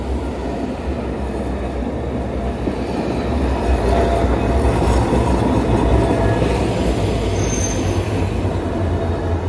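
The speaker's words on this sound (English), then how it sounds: "There's these trams here, it's pretty cool." Trams roll along rails through a small Japanese town, a steady loud rumble of wheels with faint squealing and clatter, continuous with no talking.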